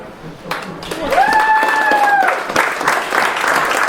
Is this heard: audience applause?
yes